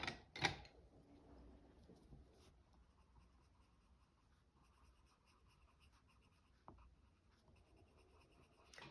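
A watercolor pencil scratches softly across paper for a craft junk journal, faint, close strokes with a few sharper taps, quiet and steady with no talking.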